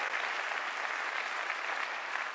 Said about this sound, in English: This was piped in applause, and they do this over and over and over during events like this.